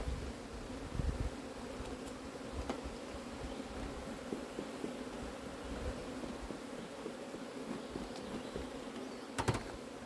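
Honey bees buzz in a constant, soft drone at a beehive, with a few brief louder passes close by.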